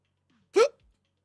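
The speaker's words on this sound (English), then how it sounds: "It was a hiccup." A single short, sharp hiccup comes from a person, close and alone in an otherwise quiet moment.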